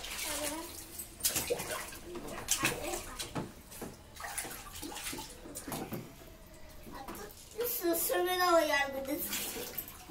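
Water poured and splashed over a child during a summer bath, coming in repeated bursts close by, with voices talking throughout.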